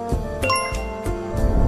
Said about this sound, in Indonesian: klik lonceng notifikasinya